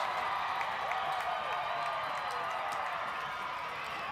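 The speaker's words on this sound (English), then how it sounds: "The crowd is going wild." A crowd at a BYU women's rugby match cheers and claps after a try. The roar is steady and moderately distant, with scattered whistles rising above it and no clear talk.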